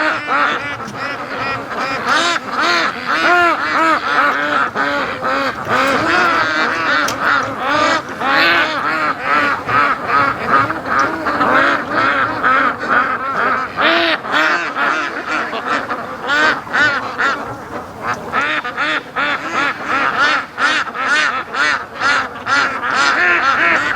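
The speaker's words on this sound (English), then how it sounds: "So we got a serious wave of ducks here." A large flock of free-range ducks on a lake quacks nonstop, a dense, overlapping chorus of loud, close calls that continues throughout.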